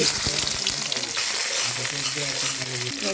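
Onion, garlic and dried fish fry in hot oil in a kadai, a loud close sizzle with stirring scrapes running unbroken throughout, with a faint voice underneath.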